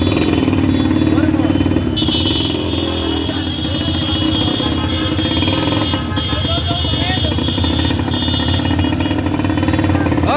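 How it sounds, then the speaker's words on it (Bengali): Many motorcycles pass through a crowded street market, their engines merging into a loud, continuous drone with high, steady horn-like tones, while people talk throughout the packed crowd. "এখন মোটরসাইকেলের পালা কত সব মোটরসাইকেল"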